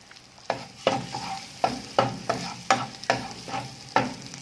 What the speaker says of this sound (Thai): ตอนนี้พริกแกงของเรานะคะผัด เริ่มจะส่งกลิ่นหอมแล้วนะคะ